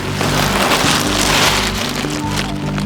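Steady rain hisses and spatters loudly nearby, with a low engine-like hum underneath and occasional thuds.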